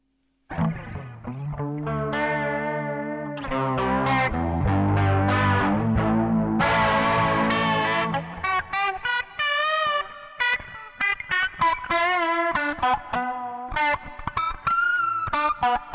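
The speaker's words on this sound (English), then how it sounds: "Next up is a vibrato." Electric guitar run through a Zoom G1 effects pedal on a vibrato setting, played as strummed chords and then picked single notes with a wavering pitch, loud and continuous with no talking.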